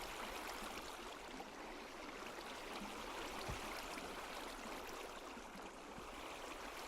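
A Minecraft water stream flows with a continuous soft rushing hiss, faint and even throughout, with no other sounds breaking through.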